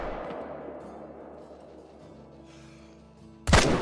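A rifle shot at a running hog in the hunting video game Call of the Wild cracks out loud and sudden near the end, after a stretch of quiet in-game ambience.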